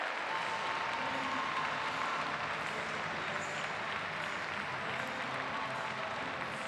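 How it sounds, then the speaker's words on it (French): Sustained applause from a large crowd fills an arena at an international show jumping competition, a steady dense wash of clapping lasting several seconds with no break and no talk over it. "continuez vos applaudissements, il les mérite amplement"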